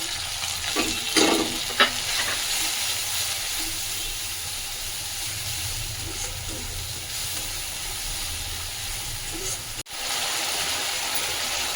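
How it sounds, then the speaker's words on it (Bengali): Cumin, coriander and Kashmiri chili powder sauté with ginger paste in a pan for a Bengali pumpkin-greens chochchori, giving a steady close sizzle. A few stirring clacks come early, and a brief dip falls near the end. "আমি এর মধ্যে দিলাম ধীরে গুঁড়ো ধনে গুঁড়ো আর কাশ্মীরি লঙ্কা এটাকে দিয়ে আমি ভালো করে একটু কষবো"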